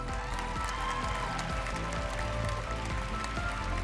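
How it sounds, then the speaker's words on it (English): Audience applause at a Miss Teen USA preliminary competition, honoring the selection committee: a steady, dense wash of clapping from a large crowd, continuous and fairly even throughout with no voices on top. "So let's give our selection committee another round of applause"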